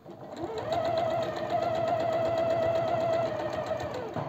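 A sewing machine stitches a vest seam with an adjustable guide foot, running steadily and loudly for about four seconds with a continuous hum and rapid needle chatter.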